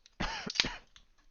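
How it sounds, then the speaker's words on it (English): A single rough throat clearing, close and fairly quiet, followed by a brief silence. "I gotta clear my throat here."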